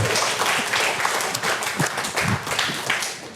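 Audience members at a sales training session clap together in a brief, full burst of applause that stays fairly even and close throughout.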